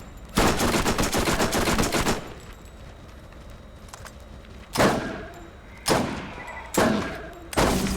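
Sniper rifle fire in Borderlands, a rapid rattling volley first, then four separate loud booming single shots spaced about a second apart, each with a short decaying tail, no voices.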